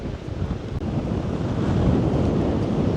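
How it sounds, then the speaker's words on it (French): Wind gusts roar steadily into the microphone outdoors on a bridge, a broad rushing buffet that swells slightly louder over a few seconds, with no voices. "Oh, le vent il souffle"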